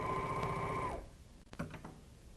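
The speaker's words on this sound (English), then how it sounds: "serge one side of a piece of silky woven fabric" A serger runs a seam along one edge of silky woven fabric, a close, steady high-pitched whirring drone for about a second before it stops, followed by a few faint clicks and handling noises.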